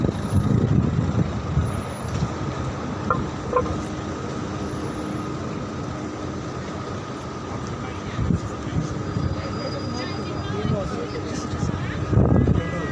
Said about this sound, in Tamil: டிராஃபிக்கும் ரொம்ப அதிகம்.